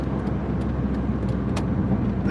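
A car engine runs steadily at high revs, a constant rumbling drone with faint road noise and no voices.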